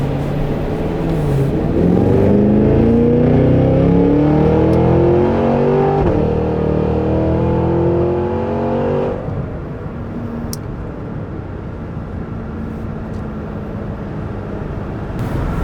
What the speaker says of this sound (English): Makes a lot of noise, in a good way.